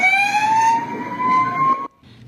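An ambulance siren wails with a rising tone from a stolen ambulance speeding through northern Kaohsiung toward the port, loud and close, then cutting off abruptly near the end.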